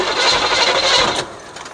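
The engine of a 1972 Chevelle that sat unused for five years cranking on its starter without catching, a rapid rhythmic whirring churn, close and loud, cutting off after just over a second.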